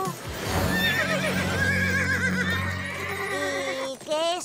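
A cartoon unicorn whinnies loudly and drawn-out over a faint clip-clop of hooves, then a second short neigh rises at the end; this animated Barbie scene has people speaking.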